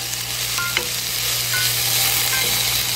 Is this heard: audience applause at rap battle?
no